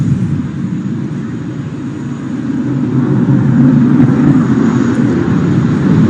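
Tejas fighter jet manoeuvring at Dubai Airshow 2021, a steady broad jet engine roar that swells slightly louder midway and holds, heard from a distance with no talk.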